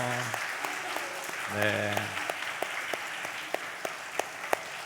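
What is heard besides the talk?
applause, a round of blessing applause in church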